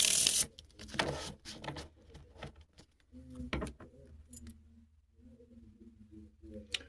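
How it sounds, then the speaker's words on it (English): A tarot deck is shuffled close up in several quick, papery riffling bursts, then a soft voice speaks between lighter card sounds. "I'll give this deck a couple shuffles"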